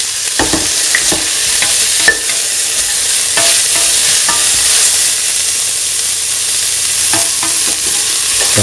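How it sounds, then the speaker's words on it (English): Onion frying in hot oil with salt, a steady close sizzle broken by scattered clicks and scrapes of a spoon stirring in the pan, no talking. "fry the onion until the leaves are pinkish color"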